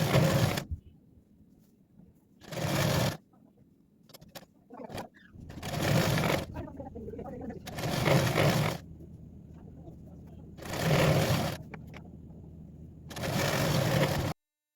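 An electric sewing machine stitches a kameez placket in six or so separate runs, each lasting a second or two and broken by quiet pauses. It sounds close and clear.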